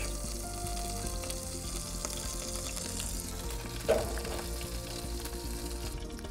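Two Scotch pancakes with wimberries frying in a pan in a camper van send out a steady close sizzle with a low background hum, and one small clatter sounds midway.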